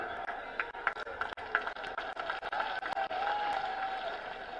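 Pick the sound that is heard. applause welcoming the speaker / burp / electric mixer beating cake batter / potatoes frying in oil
applause welcoming the speaker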